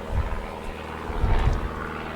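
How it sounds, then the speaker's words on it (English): An aeroplane drones overhead outdoors, a steady low engine hum with slight pulsing, moderately loud and continuous. "aeroplane going overhead there"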